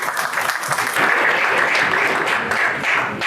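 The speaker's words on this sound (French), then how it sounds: "Rien que pour cela, je crois que Mme Barga mérite une salle d'applaudissements." Steady applause from an audience at a book signing and dedication event, dense and continuous at moderate loudness for the whole stretch, with a faint voice briefly audible beneath it.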